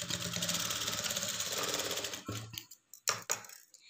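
A sewing machine runs fast and steady, stitching a folded hem on a blouse lining, then slows into a few short bursts of stitching before stopping.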